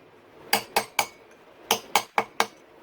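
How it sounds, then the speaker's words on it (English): Sharp metallic taps on the locking tab of a 2021 Yamaha YZ450F clutch nut, struck with a hammer to bend it up: seven close, clinking hits in two quick bursts, with nobody talking. "there's a tab, a locking tab, and you have to bend that up and out of the way"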